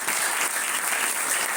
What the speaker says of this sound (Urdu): موسیٰ کے لیے زوردار تالیاں.